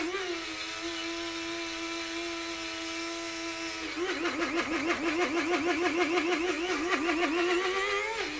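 A small electric kitchen mill grinding sugar whines steadily at first. After about four seconds it is shaken, and the motor pitch starts wobbling in a quick, rhythmic warble for the rest of the run.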